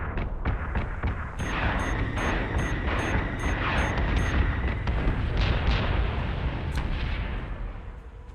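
Missiles explode in a space battle in Battlestar Galactica Deadlock, a rapid barrage of booming blasts and crackling impacts layered over a rumbling roar, loud and continuous with no speech.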